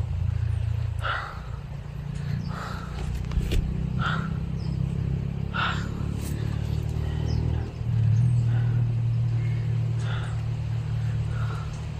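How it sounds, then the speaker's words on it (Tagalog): A motorcycle engine rumbles and drones steadily at a distance on a road above, swelling slightly as it passes, with faint chirps and rustles over the top. "Diyan sa bandang ibabaw may marinig tayong dumadaan na motor kasi may kalsada dyan sa ibabaw"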